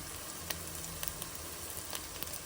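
Ginger garlic paste for vegetable dum biryani sautés in a pan with a soft, even sizzle and a few light stirring clicks, quiet and close with no talking.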